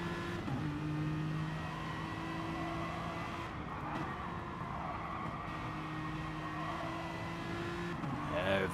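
Race cars lapping Fuji International Speedway in a Gran Turismo Gr3 league race, a steady engine drone with tyres sliding and squealing through the corners, loud and continuous throughout.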